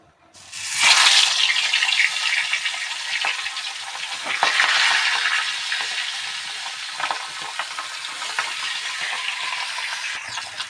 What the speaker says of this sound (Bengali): এবার আমি মাছটাকে ওর মধ্যে ছেড়ে দেব